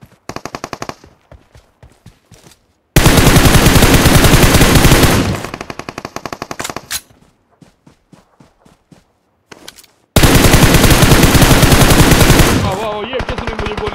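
Gunfire in the battle royale game PUBG: two long, loud sustained bursts of automatic fire, with scattered single shots and footsteps between them, close to the listener.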